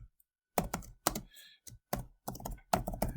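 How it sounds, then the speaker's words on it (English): Short bursts of typing on a computer keyboard while entering C++ code, crisp close key clicks in quick clusters separated by brief pauses. "I am going to type in here cout"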